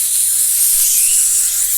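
A voice imitates the hiss of a bug spray can, a steady loud airy spray held for the whole stretch without a break.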